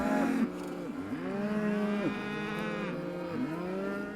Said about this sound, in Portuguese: Ele viu uma vaca visivelmente desesperada.